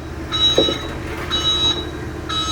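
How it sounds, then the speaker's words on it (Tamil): BOV electric vehicle in reverse gear sounds three evenly spaced electronic reversing beeps, each about half a second long, over a low steady hum with a brief knock between the first two. "அண்ட் நெக்ஸ்ட் வந்து ரிவர்ஸ் ஆர் ஒரு பீப் சவுண்டு கூட வந்துடும்."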